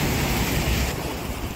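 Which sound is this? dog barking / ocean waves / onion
ocean waves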